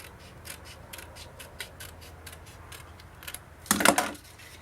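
Scissors cutting paper for a scrapbook folio, a run of light rhythmic snips and rustles ending in one louder, sharper cut.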